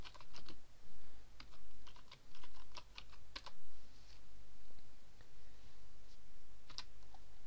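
Someone types on a computer keyboard while editing a blog post, a close run of quick clicking keystrokes in uneven bursts that thin out to a few isolated taps, with no talking.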